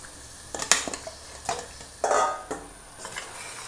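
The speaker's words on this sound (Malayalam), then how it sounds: "ഇതിലേക്ക് ഇനി നമുക്ക് മാരിനേറ്റ് ചെയ്ത് വെച്ചിരിക്കുന്ന ചിക്കൻ ഇതിലേക്കിടാം." Marinated chicken is tipped into a biryani pot, with close metallic clanks and scrapes of a utensil against the pot and a brief hiss of sizzling, with no one talking.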